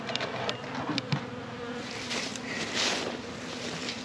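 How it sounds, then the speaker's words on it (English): A swarm of honey bees drones steadily outside a hive box, a dense close buzz with individual bees flying past. "I do know there is a cloud of bees out here."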